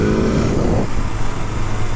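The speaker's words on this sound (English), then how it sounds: "I don't know if you can hear the engine," A 2023 BMW S1000R motorcycle engine idles and growls steadily at close range, a continuous low rumble running the whole time without any talk over it.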